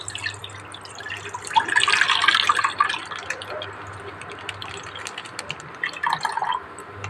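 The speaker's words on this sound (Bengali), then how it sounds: "দুধের প্যাকেটটা আমি ঢেলে নেবো।" Milk poured from a cut packet into a cooking pot for chhana payesh, a steady liquid splash swelling in the middle and tapering to drips, close and moderately loud over faint background hum.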